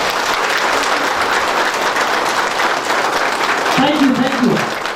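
An audience at a Safe Shop event in Kusmi claps and applauds in a loud, sustained, dense wash, while a voice rises briefly near the end.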